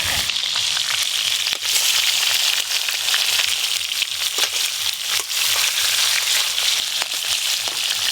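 Fish frying in a wok (kadai) for a thin Bengali fish curry, a loud, dense, steady sizzle and crackle that continues without a break and without any talk.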